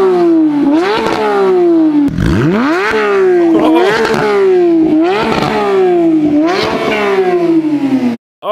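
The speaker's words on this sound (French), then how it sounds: "Écoutons le bruit de l'échappement." A rebuilt, previously crashed Porsche GT3 revs loudly nearby, its exhaust howling through repeated rising blips that climb and fall several times in quick succession before cutting off abruptly at the end.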